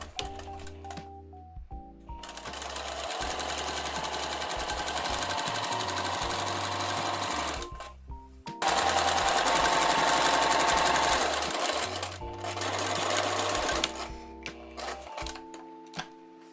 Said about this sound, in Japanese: 空き止まりから裾までミシンをかけて後ろ中心を縫い合わせます。